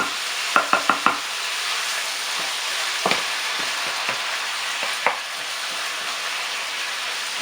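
Chicken and pineapple caramelizing in a hot pan: a loud, steady sizzle with a quick burst of four utensil knocks near the start and a few more scattered taps, with no voices.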